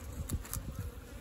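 Honey bees buzz loudly and up close at a hive built inside a manhole cover, a dense steady drone with a few brief swells and no voices.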